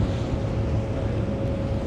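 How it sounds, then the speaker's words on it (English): Strong wind buffets the microphone aboard the Manly ferry crossing Sydney Harbour, making a loud, constant low roar with a steady engine hum beneath, and no voices. "It's pretty windy today on the Manly ferry"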